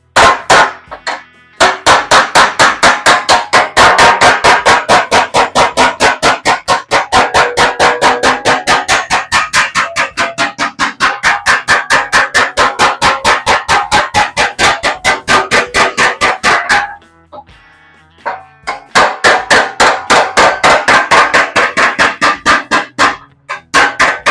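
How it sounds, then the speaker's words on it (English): Rapid, loud metallic hammer blows from a hammer and dolly strike sheet-metal bodywork for a 1937 Ford Coupe in a fast continuous rhythm, pausing briefly twice before resuming. "I'm just going to use hammer and dolly, plus this is faster"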